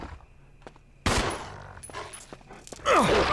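Gunshots in Resident Evil HD Remaster, a loud sudden blast followed by a reverberating tail, then a second sharp shot near the end, over a faint low ambient backdrop.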